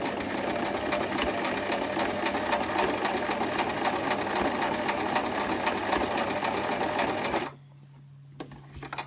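A sewing machine stitches a fabric hem using a blind hem foot, a steady fast mechanical whir and rhythmic needle clatter running for several seconds before stopping abruptly, leaving a faint low hum.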